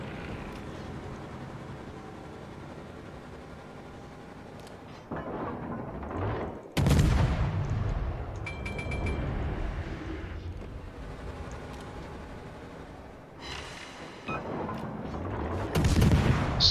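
Warship guns fire in a naval battle video game, a run of heavy booming salvos and blasts with sharp onsets and rumbling tails over a constant battle din.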